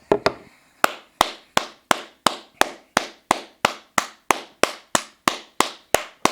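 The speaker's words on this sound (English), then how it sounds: "Clap it up for Bigg K, man." Sharp, evenly spaced claps sound near and dry at a steady rhythm, about three per second, for applause honoring the rapper Bigg K at a rap battle, with no talking.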